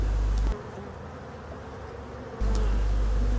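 Honeybee colony buzzing at an open hive in late season, a steady close insect hum that drops away briefly in the middle and then returns.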